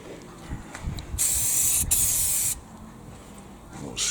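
An aerosol can sprays a coat onto a van roof in close, loud hissing bursts, one long spray broken by a brief pause, with quieter outdoor rustling before and after.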